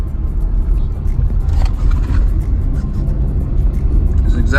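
A car rolls along a country road through meadows, a steady low rumble of engine and tyres heard from inside, continuous and fairly loud with no talk.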